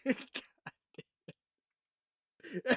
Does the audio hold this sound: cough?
yes